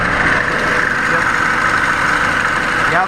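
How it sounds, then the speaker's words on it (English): A car engine idling steadily while the AC compressor pump turns during an AC recharge, giving a loud, constant mechanical drone with a whining hum, close and uninterrupted. "And down there you can see that my AC pump is turning."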